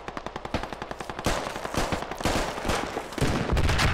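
Rapid bursts of automatic gunfire crackle in the video game Squad, an even stutter of shots that thickens into dense overlapping fire toward the end, loud and continuous.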